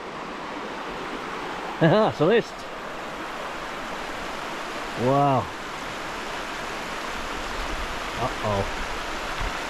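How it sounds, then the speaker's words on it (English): Cascade Creek on New Zealand's South Island rushes steadily in a broad, constant wash of flowing water, close and even throughout, while a few short voices exclaim over it. "This is Cascade Creek."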